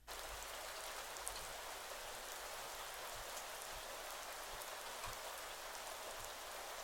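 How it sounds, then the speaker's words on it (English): Heavy pouring rain is layered into a hip-hop beat as a city-scene backdrop, a dense, steady hiss with faint low thumps beneath, constant and without talk. "in my head I just pictured this city-like scene with some rain pouring in the background"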